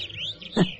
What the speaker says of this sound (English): Above the noise of the traffic, you can hear the birds sing.